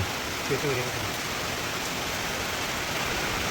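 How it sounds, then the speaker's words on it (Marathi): Heavy rain pouring down in a dense, continuous hiss that stays steady and loud throughout, with no other clear sounds. "पावसाचे आगमन झाले जोरात पाऊस चालू झाला"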